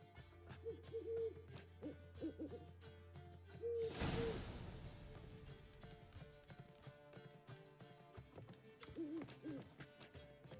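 Owl hooting in the video game Witcher 3, a soft repeated hoot over busy game music and hoofbeats, with a loud whoosh midway.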